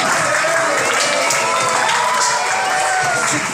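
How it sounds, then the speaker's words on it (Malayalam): A school Onam celebration audience applauds in a loud, continuous wash of clapping mixed with crowd noise and a few excited children's voices. "കൈയടിച്ച് കൊടുക്കൂ"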